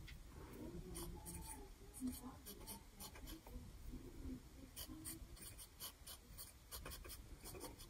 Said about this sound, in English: And we'll do a little writing sample for this one.